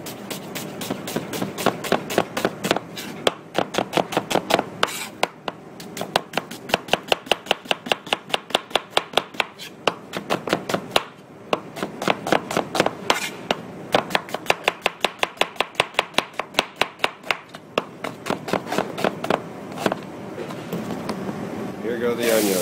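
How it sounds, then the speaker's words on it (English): A knife roughly slices onions on a cutting board for winter squash soup, with a long run of steady, rapid chopping strokes that pause briefly a few times, while a person talks throughout. "first step is that we're going to slice these onions roughly"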